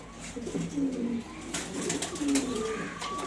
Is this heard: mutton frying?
no